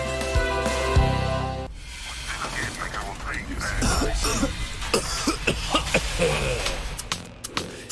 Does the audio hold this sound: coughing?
yes